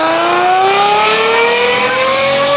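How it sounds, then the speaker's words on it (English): A car engine revving hard through its exhaust, a loud, steady high-pitched wail climbing in pitch as it accelerates. "Mr. Sasaki's brilliant exhaust contains a mythical formula to create its F1 sound"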